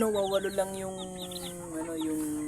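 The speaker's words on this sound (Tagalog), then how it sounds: "8 pirasong sisiyo na puro Rhode Island yung namin" Rhode Island Red chicks peep nearby in quick, high, overlapping chirps over a faint steady background hum.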